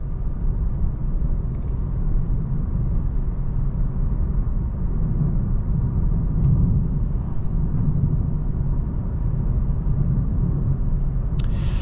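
A 2026 Nissan Sentra SR cruising in the high 30s mph on a fairly quiet road, giving a steady low cabin rumble of engine and tire noise throughout, with no talking.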